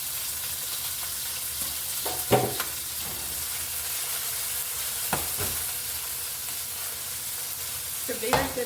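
Peeled shrimp frying in a pan give off a steady, fairly faint sizzle, with a few brief louder clatters and stirring sounds, and no one talks.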